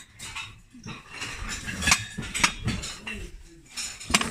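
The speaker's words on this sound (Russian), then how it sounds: "Бьющаяся посуда" Porcelain dishes being smashed at a German flea market, several sharp breaking cracks and clinks at irregular intervals over a busy outdoor background with faint voices.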